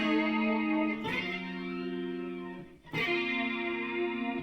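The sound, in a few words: guitar with Leslie rotary speaker effect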